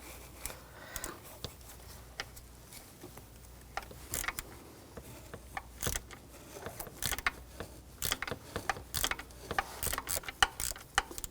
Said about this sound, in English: I'm going to take this bolt out.